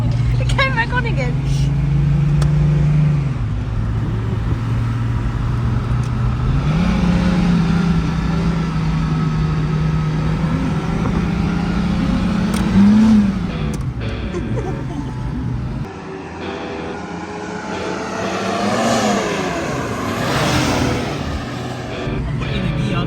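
An old Holden VL Commodore fitted with an LS1 V8, revived after thirty years of sitting, idles with a deep steady rumble whose pitch rises and falls with light revs while someone talks over it.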